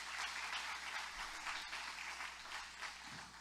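A church congregation applauds during a worship sermon, a steady wash of many hands clapping that stays even and fairly distant for the whole stretch.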